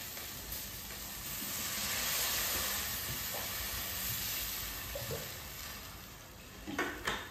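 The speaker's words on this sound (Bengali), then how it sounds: "পরিমাণ মতো জল দিয়ে দেবো এতে।" Water poured into a hot cooking pan brings up a broad, steady hiss that swells and then settles, with a few faint utensil clinks near the end.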